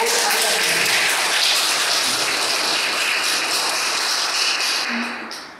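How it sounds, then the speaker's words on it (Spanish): Audience applause fills a school ceremony opening the 2021 academic year, a dense, steady wash of clapping that holds loud and even throughout, then thins toward the end. "Fuerte los aplausos, por favor"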